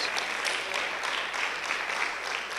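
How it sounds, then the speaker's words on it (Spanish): Congregation applauding during a Spanish-language church service, a steady, fairly quiet wash of clapping with no voices over it. "Dele un fuerte aplauso al Rey de Reyes"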